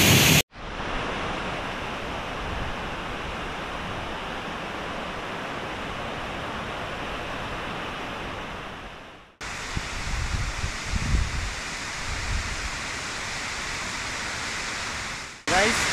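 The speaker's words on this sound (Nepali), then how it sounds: "गाइस पछाडि देख्न सक्नुहुन्छ नार्छेङ झरना" Narchyang waterfall in Nepal rushing as a loud, continuous broadband roar close by, steady and unbroken apart from brief cuts, with low thumps and wind buffeting in the later part.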